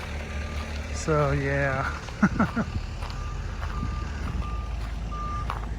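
A truck backing up at a garage and shop build site gives a steady series of evenly spaced reversing beeps over a low engine rumble, with a person briefly talking nearby.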